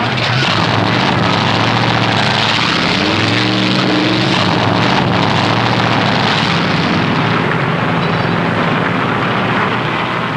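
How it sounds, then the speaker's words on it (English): Dozens of stock car engines at the 1964 Southern 500 at Darlington fire up together, a dense continuous roar with rising revs, loud and unbroken throughout. "Gentlemen, start your engines."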